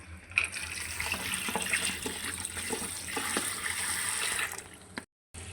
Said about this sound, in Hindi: ये 2 से 3 दफ़ा मैं इसको अच्छी तरह वाश कर रही हूँ।